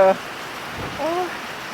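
Steady rain falls as a soft, continuous patter, with faint voices talking briefly in the background.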